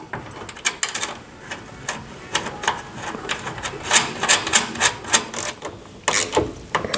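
Bolts are fastened by hand to mount a steering column and its bracket in a Volkswagen Beetle restoration. Close, sharp metallic clicks and ratcheting taps come in an irregular series, with a louder cluster near the end and no talking.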